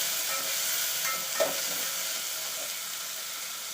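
Onion and garlic paste sizzles steadily in a hot pan, a continuous bright frying hiss with a faint stir or clink midway, no voices.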